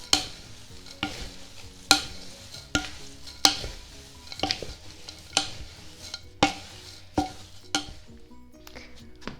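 Homemade granola being mixed with foraged hazelnuts in a bowl or pan, a rhythmic series of close scraping, rattling stirs repeating about once a second, with light clinks of the utensil.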